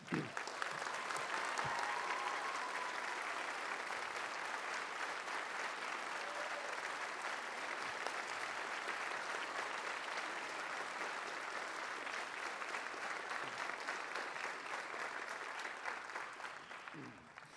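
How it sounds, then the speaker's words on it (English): Audience applause for seniors at a spring band concert, a sustained, even roar of clapping from a large crowd lasting well over fifteen seconds, heard from some distance. "a round of applause for our seniors"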